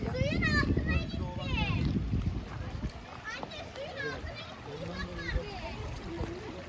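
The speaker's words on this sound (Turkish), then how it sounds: "Çamura girdiğim için ayağımı derede yıkayacağım." Water splashes and trickles in a stream as feet are washed, close by under the chatter of adults and children outdoors.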